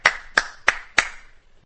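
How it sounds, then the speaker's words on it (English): A single person claps four times at an even pace, close and crisp, then falls silent. "Station master applauds."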